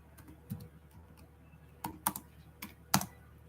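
A handful of isolated keystrokes on a computer keyboard while JavaScript code is typed, sparse crisp clicks spaced by pauses over a faint steady hum, close by and with no speech.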